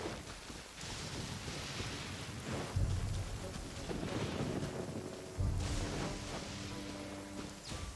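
Thunder and lightning crackle over steady rain in a Bane Thunder area of Inazuma in Genshin Impact, with two heavy low rumbling booms at the middle and later on, amid continuous hissing rainfall.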